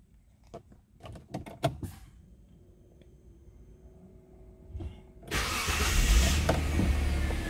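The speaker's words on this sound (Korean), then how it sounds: "시동을 한번 걸어 볼게요" A car's engine at a repair shop, checked for a sensor fault, is started: a few clicks and a faint electrical hum come first, then the engine catches at once into a loud, steady idle that runs to the end. No one speaks.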